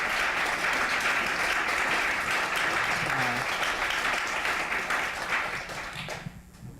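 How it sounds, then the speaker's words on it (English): Dense, sustained applause from an audience at a panel discussion on school closures, clapping steadily for several seconds before tapering off abruptly near the end. "Can we give our panelists a round of applause?"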